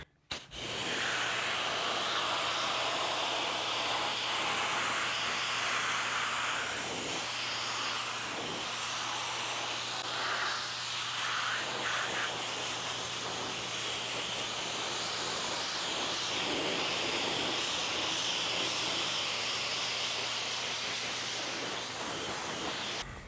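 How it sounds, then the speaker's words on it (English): A car's front bumper is rinsed with a steady, close spray of water that hisses continuously for over twenty seconds. The only break is a brief start at the beginning, and no one talks. "So let's rinse this front bumper and see how it does."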